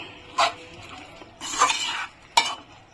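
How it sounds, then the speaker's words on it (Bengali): Bottle gourd greens are stirred in a pot at home, three separate scraping, clattering strokes of a spoon against the metal over a faint background sizzle. "এখন ভালো করে নাড়িয়ে চাড়িয়ে গ্যাসটা একটু লোতে করে 5 মিনিটের জন্য ঢেকে দেবো"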